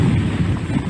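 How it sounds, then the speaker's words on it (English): Strong wind gusts from Hurricane Irma near downtown Miami roar continuously and buffet the microphone with a heavy, low rumble that never lets up. "The wind is gusting pretty fiercely here."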